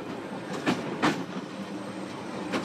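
A train rolls along the jungle railway in Madagascar with a steady low rumble and a few distinct wheel clacks against the rails, loud and close, with no voices.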